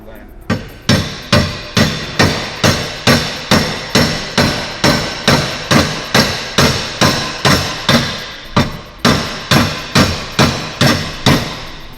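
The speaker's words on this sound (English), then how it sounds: "So let's have another go with the hammer." Heavy hammer blows on Ford Mondeo Mk3 brake and exhaust parts in a home repair, about twenty loud, evenly paced metallic strikes with a short pause partway through, close and dominant.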